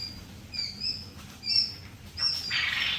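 Pet birds in a home cage lined with paper over wood shavings give off a few soft, high chirps and brief wing flutters, with a short rustling burst near the end. No one speaks.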